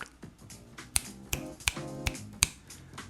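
A handful of sharp, close finger snaps, about five of them, spaced irregularly over a background of soft tonal sounds.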